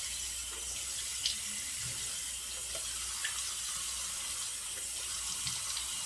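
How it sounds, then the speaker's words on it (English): Hot water runs steadily from a bathroom tap into a sink during a wet shave, a continuous close splashing hiss with small drips and clinks over it. "I'm just gonna wet it again with hot water"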